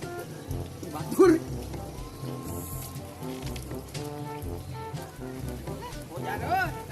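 Rain pattering steadily on a surface while voices carry on nearby, with a louder burst early on.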